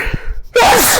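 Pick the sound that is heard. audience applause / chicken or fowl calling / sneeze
sneeze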